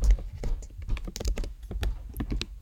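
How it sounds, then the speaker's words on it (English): Quick, close clicks of fingers typing a name on a computer keyboard, an irregular patter of individual key presses with brief pauses between them. "So just go ahead and type in your name"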